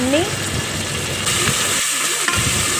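Tomato pieces frying in oil in a pressure cooker, a loud continuous close-up sizzle and hiss with a brief whistle-like tone at the start and light stirring throughout.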